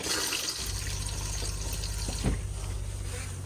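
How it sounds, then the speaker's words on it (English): Water flows steadily into the bowl of the toilet in a 2020 Adria Matrix Supreme 670 SL motorhome, a continuous close rushing fill with a low pump hum underneath. "you press the blue button here and you'll get a flow of water into the bowl"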